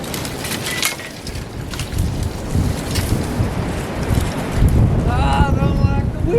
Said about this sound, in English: I don't like the wind